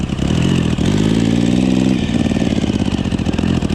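A Yamaha Raptor ATV swapped with a 1050cc engine revs hard, its loud close growl climbing in pitch then dropping into a rapid, throbbing idle-like pulse.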